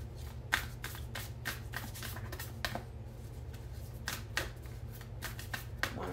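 Oracle cards shuffled for a tarot reading make soft, repeated riffling and flicking sounds in an irregular rhythm, close and fairly quiet, over a low steady hum.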